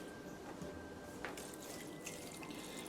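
About half a cup of water poured into a tub of ground venison Italian sausage meat mix, a steady faint splashing trickle running for a few seconds, close by and with no talking.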